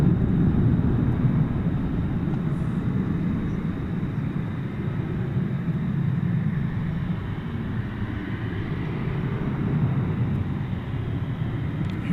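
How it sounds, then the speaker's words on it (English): A FedEx Boeing 767 takes off at night from DFW Airport, a long steady jet roar heard from a distance, broad and even in loudness throughout. "Hearing a plane take off"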